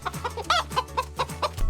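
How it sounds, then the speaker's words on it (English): A chicken clucks in a quick series of short, close, repeated calls with a steady rhythm, alone with no talking. "Yes, it's a chicken."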